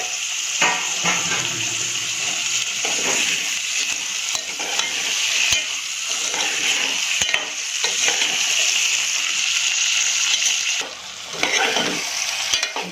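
Chori (long beans) and potato curry with spices being stirred in a pan: a steady, close sizzle with repeated scraping strokes of a spoon against the metal, continuing without talk.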